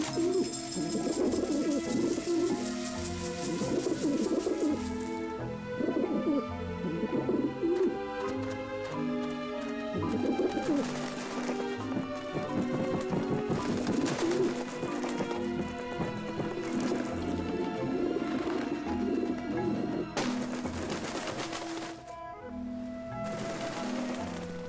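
Pigeons in the video game Grim Fandango Remastered coo and flutter through a looping stretch, with soft repeated coos and wing flaps over a musical game soundtrack.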